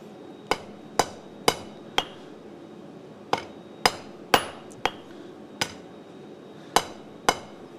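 Hot steel is hammered on an H13 anvil during forging, with about fifteen sharp, ringing metallic strikes in an uneven rhythm, close and loud, with short quiet gaps between groups of blows.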